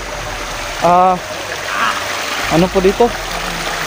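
Forest stream from a virgin forest flowing steadily, with a continuous close trickling and rushing of water throughout; a few brief bursts of speech sit over it.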